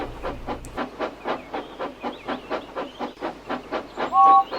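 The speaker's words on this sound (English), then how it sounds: "he chuffed away. The whistle blew, and James left as well." A steam locomotive chuffs away at a steady, even rhythm of loud exhaust beats, and its whistle gives a short, shrill blast near the end.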